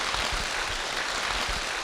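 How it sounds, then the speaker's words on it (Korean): A Korean church congregation claps briefly for a devoted member during a service. The clapping is soft and dense, a short wash lasting under two seconds. "우리 한번 박수 한번 해주세요."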